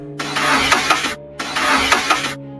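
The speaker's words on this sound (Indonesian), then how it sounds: "Kunci diputar, tapi mesin hanya menyala setengah lalu mati lagi." A car engine cranks in two long bursts with a mechanical whirring rattle, each catching only halfway before dying out, with a short pause between the attempts.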